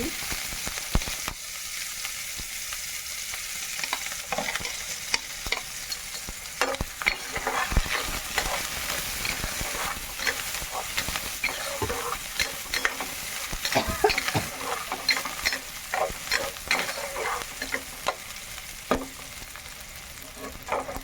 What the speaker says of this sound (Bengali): তেলটা গরম হতে দেবো, আর দিয়ে দেবো পেঁয়াজ কুচি,